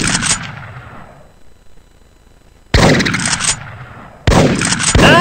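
Hunting rifle fire in the game Big Buck Hunter Pro, three loud, close blasts, each with a long decaying echo, the first followed by a quiet gap before two more in quicker succession.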